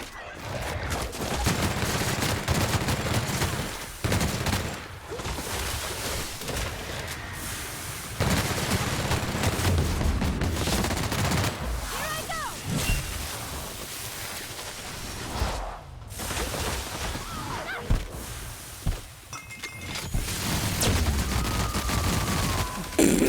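Bursts of rapid gunfire in The Outer Worlds, a sci-fi shooter game, dense repeated shots and booms filling the scene continuously, with brief quieter gaps and faint voices now and then.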